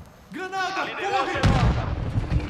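A grenade blasts in Call of Duty: Warzone 2.0 on the Shipment map, a loud broadband boom with a rumbling tail right after a shouted voice line.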